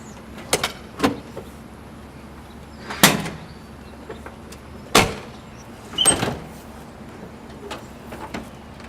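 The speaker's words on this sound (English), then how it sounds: "let me pop the hood" The hood of a BMW E30 is released and popped open: a handful of sharp, close clunks and latch clicks spaced a second or two apart over a quiet background, with no talking.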